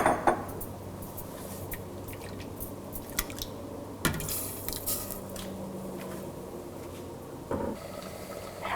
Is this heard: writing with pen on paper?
no